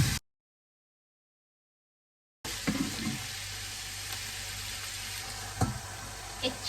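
Goat liver and tripe sizzle and fry in a pan, a steady close hiss that starts after a stretch of silence, with a few soft stirring clinks and bumps.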